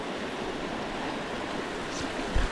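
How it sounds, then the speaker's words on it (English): Flowing water along the trail at Hanging Lake, Colorado makes a steady, full rushing wash throughout, with a brief low thump near the end and no talking. "Pretty relaxing, that water."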